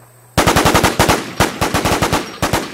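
Rapid bursts of automatic gunfire from a player in the WarZ video game, loud and close, firing in quick repeated volleys with brief pauses between strings of shots.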